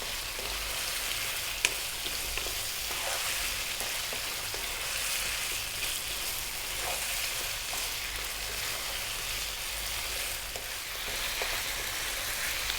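Tomato paste for lamb curry fries in a pan with a steady, moderately quiet sizzle and hiss, broken by occasional soft stirring scrapes, with no voices.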